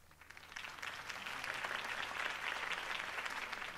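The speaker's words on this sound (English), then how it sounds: "If only Mr. Wayne, my campaign's largest backer, could have heard that applause" Crowd applause after a mayoral campaign speech in the video game Batman: The Telltale Series swells from a soft start into dense, steady clapping.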